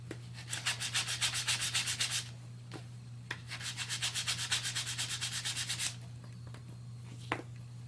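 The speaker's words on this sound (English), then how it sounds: "I'm going to take the dark gray side and begin rubbing it" Dark gray Vintaj patina being rubbed off raised metal, two long bursts of quick back-and-forth scrubbing strokes, close and soft over a steady low hum, followed by a few light taps.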